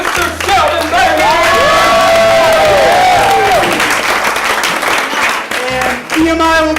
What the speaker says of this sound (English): Another round of applause for our very special guest, Mr. Sheldon Bailey.